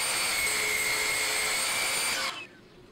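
A power sander grinding a chamfer onto a small wooden block, a loud, steady high-pitched whir that runs unbroken for about two seconds before cutting off abruptly.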